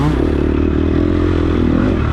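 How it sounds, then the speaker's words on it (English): A dirt bike engine revs during an off-road race, its buzzing drone steady and fairly close with a clattery, scraping edge, holding on without pause. "You can hear him revving."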